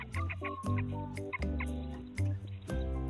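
A hen clucks repeatedly in low, rhythmic bursts while chicks peep in high, thin cheeps throughout.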